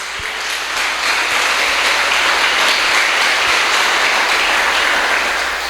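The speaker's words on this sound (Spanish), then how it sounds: "Le podemos dar un fuerte aplauso al Señor" A church congregation applauds the Lord in praise, a dense, steady wash of clapping from many hands that holds evenly for several seconds with no voices on top.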